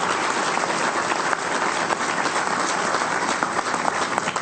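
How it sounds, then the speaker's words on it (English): An audience applauds at a groundbreaking ceremony for a 26-acre development at Hudson Yards, a loud, sustained crowd clapping that stays full and even throughout. "he does deserve a round of applause"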